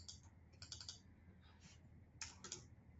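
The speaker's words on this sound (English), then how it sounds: "I'm just quickly typing in exactly what it says on this hex color code" Fast keystrokes on a computer keyboard as a hex color code is entered for an event website, in two short bursts of quiet, close clicking separated by a pause.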